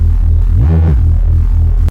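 A detuned, sine-like jungle Reese bass synth plays a loud, sustained low tone with a throbbing, phasing movement and a brief swell in the middle, cut off sharply at the end.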